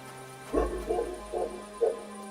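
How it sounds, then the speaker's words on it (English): A dog in Kingdom Come: Deliverance II gives four separate barks at a steady pace, fairly faint and a little distant, with no talking over them. "No one wants to hear your barking!"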